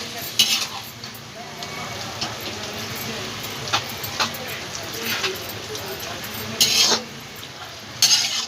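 Spinach and spices for palak paneer sizzle in a pan while a utensil stirs and scrapes, with a constant frying hiss and occasional sharper clinks against the metal.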